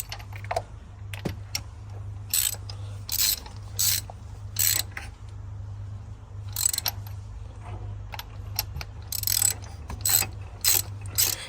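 A ratchet tightens spark plugs on a Vauxhall Mokka 1.4 petrol, giving bursts of rapid, close clicking that start and stop irregularly over a steady low hum.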